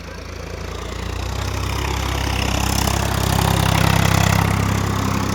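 A Swaraj 744 XT 4WD tractor engine runs at low RPM, giving a steady, loud, continuous diesel rumble that swells slightly midway with no break or talking.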